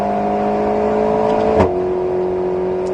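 An Alpine A110S on the Nogaro circuit during a driving course, its engine holding a steady tonal drone that rises slightly under acceleration, with a brief sharp knock or flap midway and no talk.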